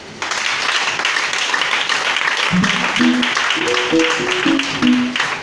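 Church congregation applauding in praise of the Lord: dense steady clapping mixed with crowd voices, a singing or chanting voice rising partway through.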